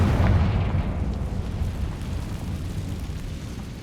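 A Confringo fire spell explodes in Hogwarts Legacy as one loud, deep boom that rolls on into a long rumbling decay and stays strong through the clip.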